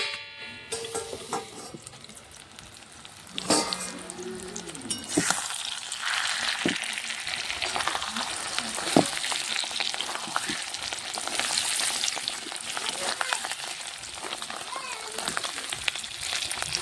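Fish roe frying in a covered pan, giving a steady, close sizzle that runs throughout, with a few sharp pops and ticks along the way.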